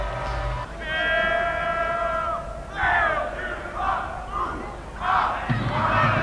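A crowd at a school rugby final between Bedford College and Epsom College roars and cheers in swelling waves, loud and sustained, with shouted voices rising through the noise.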